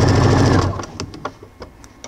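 A sewing machine stitching bias binding onto fabric, a loud steady motor whir that stops partway, followed by scattered light clicks and fabric handling.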